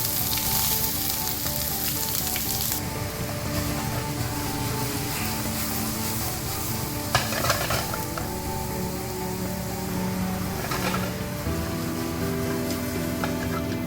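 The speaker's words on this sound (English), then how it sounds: "the pan is nice and hot, so I'm gonna add in the onions, the celery, and the carrots all together" Onions, celery and carrots frying together in a hot pan, a loud, steady crackling sizzle throughout with a few stirring scrapes and a low background hum.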